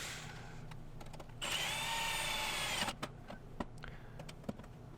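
A dull drill bit grinds into long sheet-metal bin tabs with a loud, steady, strained motor whine of about one and a half seconds. Sharp clicks and knocks from handling the metal follow.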